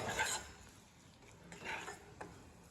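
A spoon stirs vermicelli and sugar in a metal pot, making soft, close scraping and clinking strokes. A heavier stroke opens the sound, then a few quieter rasps follow at uneven intervals, with no talking.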